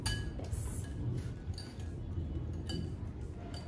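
Spoon clinking and scraping through carrot muffin batter in a bowl, with a steady run of light taps and knocks against the bowl's side, close and continuous, under quiet room noise.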